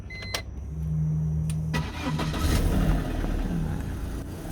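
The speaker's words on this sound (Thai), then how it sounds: "รถสตาร์ทปิดใช้งานได้นะครับ" The engine of a BMW E46 car starts with a short cranking whine and then settles into a steady, close idle rumble.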